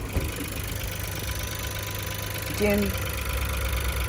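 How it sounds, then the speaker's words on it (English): A VW Up GTI's small 3-cylinder turbo engine idles with a steady low hum, close by, while someone talks over it. "nice and sweet little 3-cylinder turbo"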